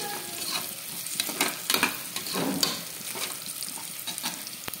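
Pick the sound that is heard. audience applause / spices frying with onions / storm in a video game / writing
spices frying with onions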